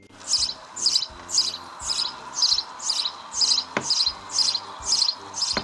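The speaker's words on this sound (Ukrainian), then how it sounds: "Горобчик, горобчику, а чого ти так голосно цвірінька?" Rhythmic high-pitched sparrow chirping repeated about twice per second in even bursts, close and clear, with no voices.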